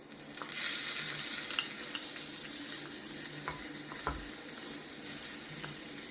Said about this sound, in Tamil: சாப்பாடை கிளறி எடுத்துகிட்டு போயிடலாம்.